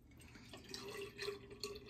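Water dripping onto a puck of shaving soap and brush, a few faint, small liquid plinks and drips over quiet background, close and without talk.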